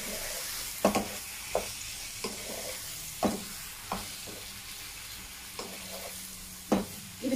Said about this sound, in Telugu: ఇది ఒక్కసారి మొత్తం కలిపేసుకుందాం మనకి.